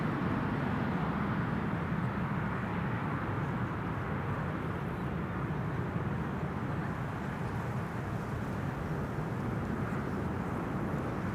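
A jet airliner lands on Amsterdam Schiphol's runway 06, the Kaagbaan, its engine roar a steady, broad rumble that holds loud and constant throughout.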